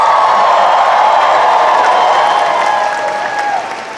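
A big Comic Con 2019 Star Trek: Picard panel audience bursts into louder, sustained applause and cheering, a full roar of clapping and whoops filling the hall before easing off near the end.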